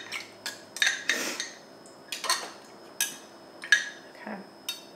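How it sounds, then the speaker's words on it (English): A utensil stirs a drink in a glass, giving a series of sharp, close clinks and taps at an uneven rhythm with quiet gaps between them. "I'm gonna give it a stir."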